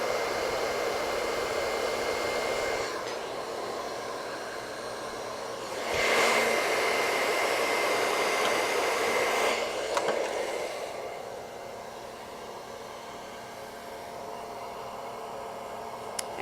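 A hair dryer blows on hair in a salon, its continuous airy whir holding steady throughout and swelling louder in two stretches as the airflow or angle shifts.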